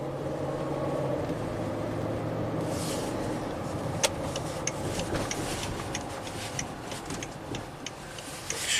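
A 2006 Land Rover HSE V8 drives along with a low steady engine and road hum heard from inside the cabin, accompanied by sharp intermittent ticking clicks, probably a turn signal relay, fairly quiet overall.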